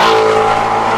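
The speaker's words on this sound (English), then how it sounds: "This car just screams at high RPMs and high speeds" A tuned 2018 Ford Mustang GT350 engine at high RPM gives a loud, sustained, screaming roar held steady close by.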